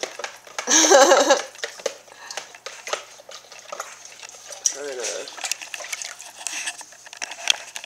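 A chalky drink being stirred, with a burst of close liquid swishing and clinking at the start, then lighter intermittent stirring and spoon taps under speech.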